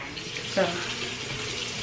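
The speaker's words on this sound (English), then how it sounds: "So I'm gonna hop in the shower, y'all. Let's get in the shower." Water running steadily in a shower, a broad continuous hiss throughout with a brief louder splash near the start and a short word spoken over it.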